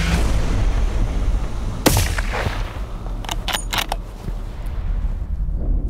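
One loud rifle shot cracks out at a moose during an Alaska hunt, followed by a few sharper clicks and rustles against steady wind and field noise.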